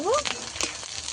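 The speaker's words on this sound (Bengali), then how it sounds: "পেঁয়াজটা আমি কিছুক্ষণ ভেজে নিয়েছি, আর একটু লাল করে ভেজে নেব।" Onions browning in a frying pan give a steady, close sizzling hiss throughout, with a brief voice at the start.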